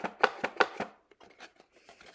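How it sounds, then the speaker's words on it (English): Fingers tapping a flimsy cardboard headphones box: about six quick, hollow knocks close up, followed by a few fainter, softer taps. "That box sounds trash"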